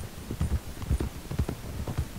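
Horse hooves clip-clop in a steady, rhythmic gait while riding in the video game Red Dead Redemption 2, with regular thudding footfalls heard clearly and alone.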